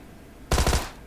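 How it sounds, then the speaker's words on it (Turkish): A short, loud burst of rapid automatic gunfire in PUBG Mobile, several quick shots in a tight cluster, close and punchy against a faint background. "Herkes birbirine sıkıyor."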